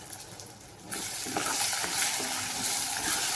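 Tomatoes drop into hot oil in a pan and begin sizzling loudly, then keep frying with a steady crackle while a spoon stirs them around.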